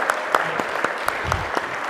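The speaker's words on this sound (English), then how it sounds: "how about a big round of applause for that meal?" Applause breaks out at a reconciliation award presentation ceremony after a meal, a scattering of distinct hand claps from a small group with a faint voice or cheer underneath.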